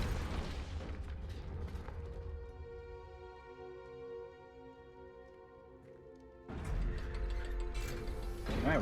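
A Confringo fire spell from a wizard video game detonates with a loud burst and crash, then a sustained ringing, shimmering magical tone lingers for several seconds before another loud, noisy blast of effects cuts in near the end.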